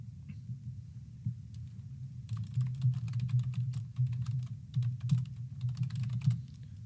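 Keys clatter on a computer keyboard as commands are typed into a terminal session, a quick irregular patter of soft clicks over a steady low hum, with no voices.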